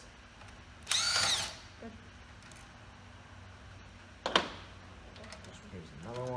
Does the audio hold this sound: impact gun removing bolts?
yes